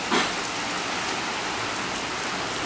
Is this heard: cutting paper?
no